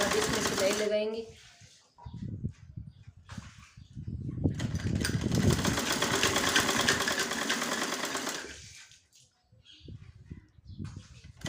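A sewing machine stitches an Afghani salwar in bursts of rapid, close mechanical whirring, with pauses between runs, while someone talks and birds chirp faintly in the background.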